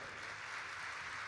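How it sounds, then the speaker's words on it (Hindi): An audience claps steadily for a short stretch as a dense, even wash of applause with no separate claps or breaks and no voices on top. "और फिर ताली बजा भैया।"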